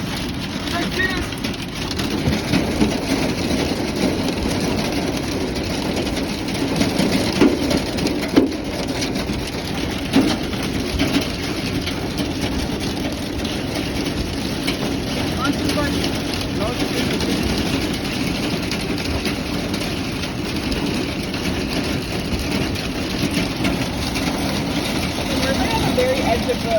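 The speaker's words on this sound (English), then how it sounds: "We're inside a hailstorm." A Texas hailstorm pelts a vehicle with dense, unbroken drumming and crackling impacts that stay loud throughout, while people talk over the din.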